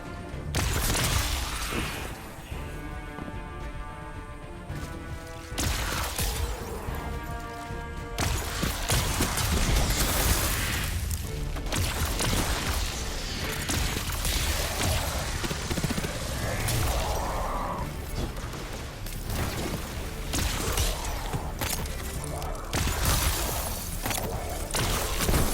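Explosions and crashing effects from a hunter build in a video game, dense and continuous, with bursts and rumbling layered over each other throughout.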